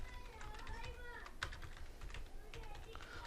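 Rapid keystrokes clatter on a computer keyboard in an uneven stream of clicks at close range, with a brief louder tap partway through and steady low room noise underneath.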